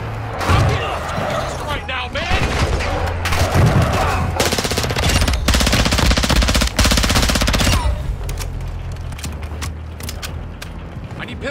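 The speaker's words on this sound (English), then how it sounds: "Pistol rounds." Rapid bursts of pistol gunfire in a tactical extraction shooter video game, loud and close, mixed with dense game noise and mechanical clatter throughout, with a voice talking over parts of it.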